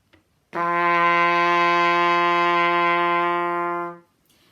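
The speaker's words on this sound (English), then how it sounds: "and this is a low pitch" A single low brass note, round and buzzy, is held steadily for about three and a half seconds, with a firm attack and a gentle taper, heard alone and close.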